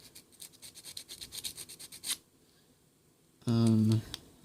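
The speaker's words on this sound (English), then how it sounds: "So, you kind of want to sand the whole thing, pretty much." Rhythmic rasping of sandpaper scrubbing a plastic toy cart lid, repeated quick strokes up close, then a pause and a brief louder scrape.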